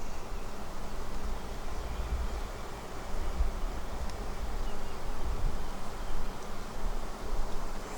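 Honey bee swarm in the air after leaving its hive outdoors, a dense continuous buzzing hum from many bees, steady and fairly loud, with light wind noise beneath.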